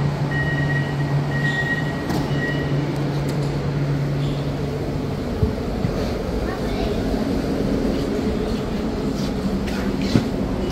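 An LRT train at a Kuala Lumpur station rumbles steadily, with a low hum and a sustained tonal whine that shifts pitch midway, plus faint clicks and station noise.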